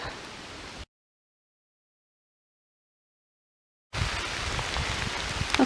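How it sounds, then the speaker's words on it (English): Steady rain patters on a forest hiking trail along the Benton MacKaye Trail, a continuous hiss that cuts out to silence for a few seconds before resuming. "It is still raining."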